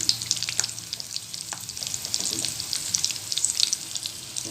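Coriander powder and curry leaves sizzle steadily in a frying pan, a close, continuous bright crackle with a few small spoon stirs and no talk.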